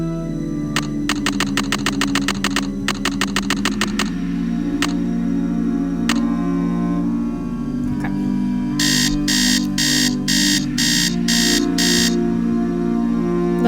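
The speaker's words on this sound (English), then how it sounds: "That alarm sound reminds me of the one that my dad had when I was younger." An alarm clock rings in the Nancy Drew game Message in a Haunted Mansion, with two rapid bursts of ringing followed later by a shrill electronic beeping in pulses over a steady low background hum.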